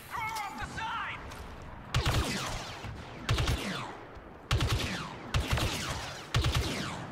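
Blaster fire in Star Wars Battlefront 2, loud bursts of rapid shots coming in clusters with short gaps between them, and a voice briefly heard near the start.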